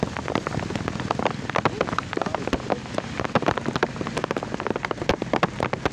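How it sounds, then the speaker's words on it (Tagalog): Very heavy rain pours down during a motorcycle ride, a dense, steady roar of drops drumming on surfaces with constant sharp splatters, loud and close, with no talking. "Sobrang lakas na ulan."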